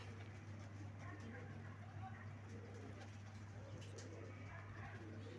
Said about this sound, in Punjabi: ਇਹ ਆਪਣਾ ਵੱਡਾ ਕਬੂਤਰ ਰਾਜਨ ਵਾਲਾ